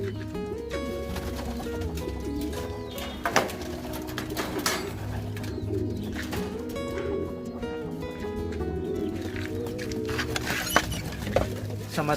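Homing pigeons outside the loft, repeated soft cooing and fluttering with faint pattering, close and continuous, with no one talking.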